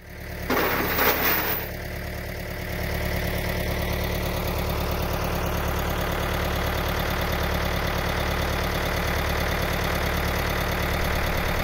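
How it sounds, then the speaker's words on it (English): A backhoe engine runs while lifting a fertilizer sack on a chain, with a steady, loud idling rumble throughout and a brief rougher burst near the start. "he's going to use that chain and the backhoe to lift that up and suspend it over the fertilizer hopper"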